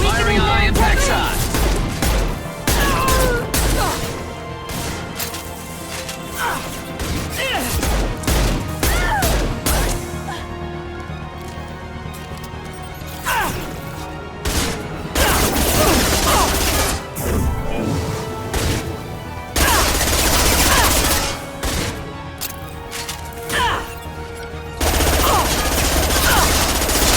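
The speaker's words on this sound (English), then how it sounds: "Firing a high impact shot." High-impact gunfire from Mass Effect 2 Legendary Edition combat, with loud bursts and rapid shots repeating in clusters across a busy firefight, crashes and impacts mixed in alongside occasional voices.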